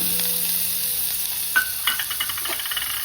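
Chopped spring onion greens land in a hot frying pan over garlic, setting off a steady hissing sizzle with a series of light scrapes and taps from stirring, close and moderately loud, no one speaking.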